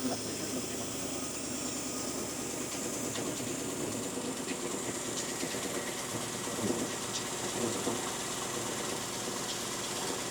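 A 1965 Ford Thunderbird engine turns over with its starter motor wired directly, bypassing the starter solenoid, making a continuous rough mechanical churn with faint rhythmic clatter that holds steady and close for the whole stretch, without speech.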